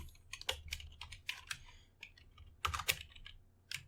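Fast, irregular typing on a computer keyboard during a Python programming session, a run of crisp key clicks with a few heavier strokes, close and clear with no voices.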